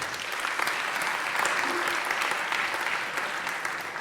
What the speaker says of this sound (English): Let's give David a warm round of applause,